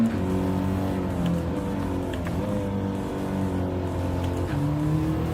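An Audi race car in a racing video game revs hard, its engine tone climbing and dropping through quick upshifts, with some faint tire squeal, loud and close throughout.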